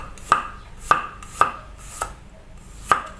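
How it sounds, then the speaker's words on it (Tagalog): A knife slices something thinly on a cutting board for a Filipino sizzling mushroom dish: five sharp, evenly loud cuts at an irregular pace with quiet gaps between them, and no voices. "Ito naman, hiwain natin ng maninipis."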